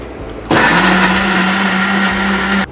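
A mixer grinder whirs as it grinds onions and tomatoes into a paste for paneer butter masala. It kicks in abruptly, holds a loud, steady, close motor whine for about two seconds, then cuts off, with no talking.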